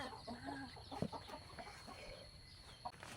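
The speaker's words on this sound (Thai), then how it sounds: "ส่วนมากแถวนี้จะมีไก่หนุ่มเยอะ" Young chickens clucking on a rural plot in Lampang, Thailand: faint, scattered short clucks and chirps, one louder close call, over a quiet outdoor hum and no talking.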